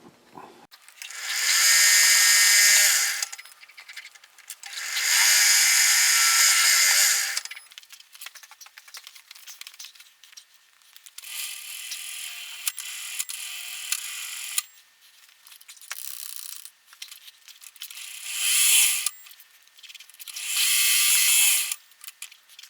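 Drill or tapping tool cutting 10-32 threads into a Logan lathe collet closer, running in several separate bursts of high whirring with pauses and lighter mechanical clicks between them.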